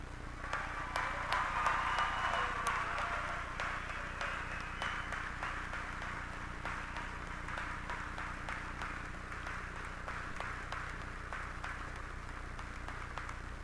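Sustained crowd applause at the Harrisburg 2025 graduation ceremony, honoring graduates enlisting in the armed forces. Dense, steady clapping fills a large space, swelling early and then holding a level, slightly distant roar to the end.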